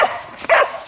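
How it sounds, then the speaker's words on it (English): A dog gives two loud, sharp barks close by, with a brief gap between them, while playing over a football. "Why is it when I pick it up, you got to bark?"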